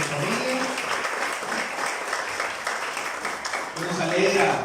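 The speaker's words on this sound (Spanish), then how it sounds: "podamos dar una ofrenda de palmas como acción de gracias" A church congregation standing to give a round of applause in thanks for a member's life and family, steady dense clapping throughout with some voices mixed in, swelling louder near the end.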